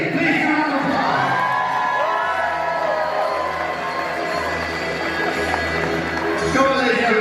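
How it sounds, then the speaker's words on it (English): A crowd cheering and clapping loudly throughout, with whoops and shouts rising over a dense wash of applause. "Please give them a applause."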